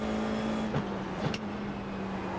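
A Formula 4 race car engine holds a steady, buzzing drone under hard acceleration, with two brief dips and surges where it shifts up through third into fourth gear.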